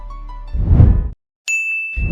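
A notification bell gives a single bright, ringing ding. A loud whooshing sound effect and a short silence come before it, and more sound effects follow.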